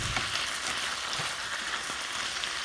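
Beef and broccoli stir-fry sizzling in a pan over medium heat, a steady close crackling hiss with small popping spatters throughout, no voices.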